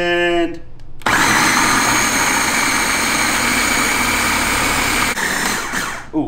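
A food processor blending chipotle chicken marinade, a loud steady whirring motor roar lasting about four seconds after a short spoken bit, then winding down as it stops.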